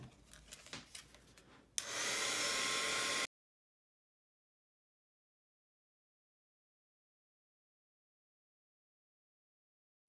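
A heat tool blasts on from below to melt black embossing powder, a sudden loud, steady blowing roar that follows a few soft handling taps and then cuts off abruptly.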